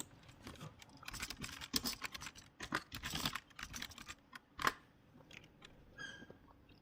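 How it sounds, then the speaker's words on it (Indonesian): Typing an Nmap localhost command on a computer keyboard, quiet irregular bursts of close key clicks and taps with brief pauses, no voices. "Di sini kita ketikkan Nmap localhost"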